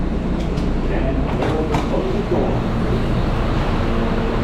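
A New York City subway E train bound for World Trade Center is heard from inside the car, a loud, steady rolling rumble with faint rattles and clicks.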